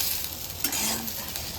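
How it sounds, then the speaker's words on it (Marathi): Masala for crab curry is stirred in a sizzling pan, a close hiss with a brief scrape of the spoon midway and a short utensil clink, without any talking. "हा सर्व मसाला एकत्र करायचा."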